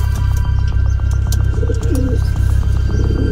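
Racing pigeon coos in low, soft repeated phrases close by, over a steady buzzing hum with occasional faint chirps from other birds in the background.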